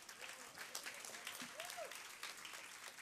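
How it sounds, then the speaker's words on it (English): A large audience at a dance title-conferral ceremony keeps up steady, fairly faint applause, with a few voices and a brief whistle-like tone rising over the clapping. "A huge round of applause. Keep the applause going"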